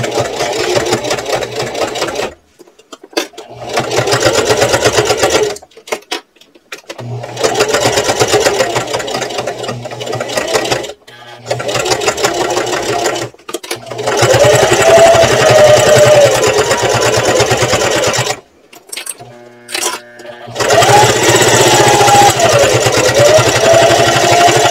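Sewing machine stitching a purse in repeated runs of several seconds with short pauses between, loud and close, steady mechanical whirring and chatter with no talk over it.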